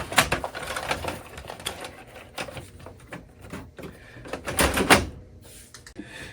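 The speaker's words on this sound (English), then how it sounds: "Finally, put the paper back into the tray and make sure that it's not too loose or too tight." Paper is loaded back into the tray of an HP Color LaserJet Pro MFP M479, with close rustling, sliding and a few plastic clunks and knocks in an irregular sequence, no voices.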